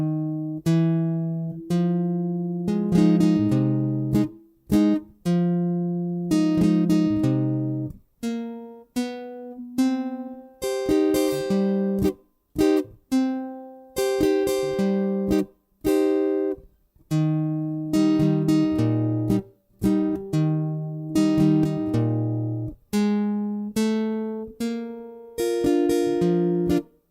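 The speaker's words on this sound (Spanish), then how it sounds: "Voy a tocar lentamente el rasgueo y los bajeos para que chequen cómo suena y cuáles son." An acoustic guitar plays slow strummed chords and bass-note runs for a song, each phrase clear and close, set apart by brief pauses, with no voice over it.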